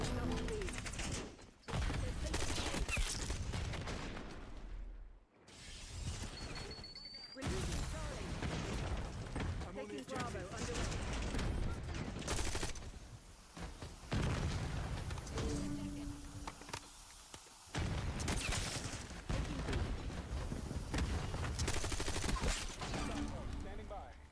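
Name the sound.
LMG gunfire in video game Black Ops 6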